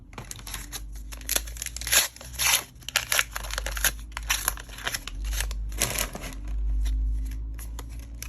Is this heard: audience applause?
no